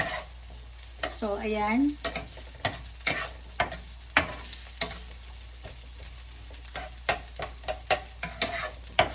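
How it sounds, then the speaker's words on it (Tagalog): Onions and carrots frying in a pan give a steady soft sizzle broken by repeated sharp scrapes and taps of a utensil stirring them, close up, with a brief spoken word early on. "Ayan po, mapupula-pulahin lang natin ng konti ang sibuyas."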